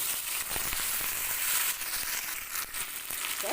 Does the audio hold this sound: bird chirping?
no